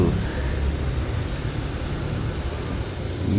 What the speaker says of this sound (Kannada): ಏನು ಇಂಜಿನ್ ಸೌಂಡ್ ಗುರು ಇಷ್ಟು ಜೋರಾಗಿ ಅಪ್ಪ